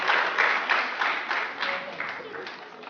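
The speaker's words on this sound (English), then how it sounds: "A round of applause for Professor Nee." Audience applause for a professor at an internet summit meeting, a moderate crowd clapping in a room, somewhat muffled and thinning over three seconds, with faint voices mixed underneath.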